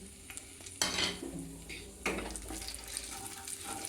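Bay leaves and whole garam masala (cardamom, cloves, cinnamon) fry in oil for a prawn pulao, giving a low sizzle with stirring and two sharp utensil clinks against the pot.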